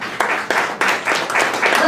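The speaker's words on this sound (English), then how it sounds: "Let's applaud our panel" Audience applauding a patient panel at a kidney donor talk, a short burst of steady clapping from a moderate-sized room that swells and pulses over about two seconds.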